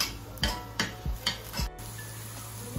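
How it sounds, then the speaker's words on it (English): Garlic and onion sautéing in a pan for spaghetti, a low sizzle broken by several close, sharp spatula knocks and scrapes against the pan at an uneven pace. "just saute the garlic and the onion together"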